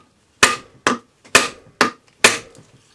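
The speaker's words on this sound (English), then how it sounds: "I'm hitting the ball with a rawhide hammer so I don't damage the ball" A rawhide hammer strikes a steel ball seated in a wooden dapping block to dome a coin for a concho, giving five sharp, separate knocks about half a second apart, close and crisp with brief ringing decay.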